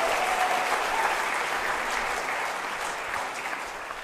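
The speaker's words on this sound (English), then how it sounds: "Can we give them another round of encouragement? A huge cheer." A concert audience applauds steadily for soloists after a choral performance, a dense even wash of clapping that holds throughout and only eases slightly toward the end.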